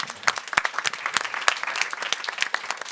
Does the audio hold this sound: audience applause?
yes